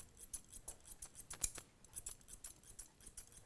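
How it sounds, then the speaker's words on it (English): Chunker scissors trim a miniature poodle's coat in a steady run of crisp, quiet snips close by, repeating every fraction of a second with one sharper cut partway through. "You can always practice with a pair of chunkers."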